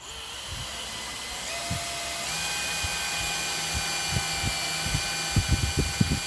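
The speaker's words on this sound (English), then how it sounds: "Put your drill on 1 because you want to go slow." A power drill set to its slowest speed whirs steadily at a low, even pace, its motor tone shifting slightly, with a few soft knocks and clunks near the end.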